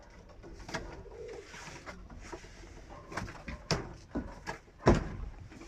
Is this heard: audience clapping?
no